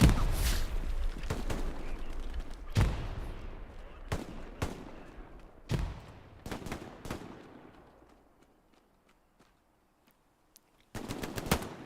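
Machine gun fire in the PC shooter Hell Let Loose, a competitive 18v18 match on SME Hospice: loud, sharp bursts of automatic fire and separate shots crack at irregular intervals, then fade to a quieter lull before another burst.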